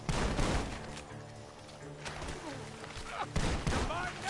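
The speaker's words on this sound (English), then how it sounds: "The gunshots are coming from that barn!" Gunfire from a barn in the video game Red Dead Redemption 2 cracks out in several sharp bursts amid game music and characters talking, fairly loud and mixed together.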